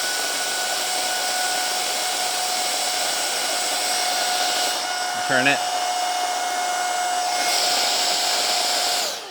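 Adam's cordless mini air cannon car blower runs with a loud, steady high-pitched whine and rushing air throughout, briefly dipping near the middle where a voice speaks, then ending abruptly.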